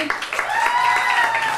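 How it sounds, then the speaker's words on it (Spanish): Brief burst of audience clapping at a civic Sunday gathering, a dense patter of hands rising quickly and holding steady for a moment. "si un aplauso para Rebeca"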